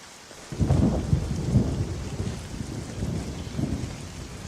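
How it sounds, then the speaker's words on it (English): Rain and thunder from the video game Eleusis: a low rumble of thunder rolls in and swells under a steady hiss of falling rain, then fades back to the rain alone. "I feel like rain effects are one of those things in games that are difficult to get right."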